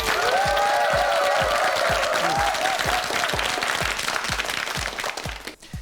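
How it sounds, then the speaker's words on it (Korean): Steady applause from a TV quiz show studio audience, continuous and fairly loud, with a rhythmic thumping beat underneath and some background music tones. "박수 주세요"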